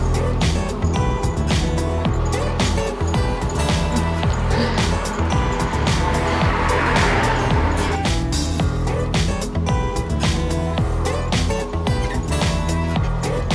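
A car drives onto the beach on Fanø island, its engine and tyres rumbling steadily close by amid loud broadband noise that swells briefly mid-way, with no talk.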